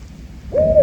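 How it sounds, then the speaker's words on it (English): A single barn owl call rings out once at dusk on a wooded trail, a brief clear tone rising from faint background hum near the end. "That's a barn owl, I think."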